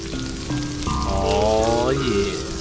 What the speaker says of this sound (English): Yeah, that meat's cooking good.